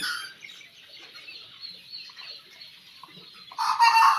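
Tiger breed chickens on a poultry farm cluck and call in a soft, scattered chorus, swelling into louder, closer squawking at the end, with no talk.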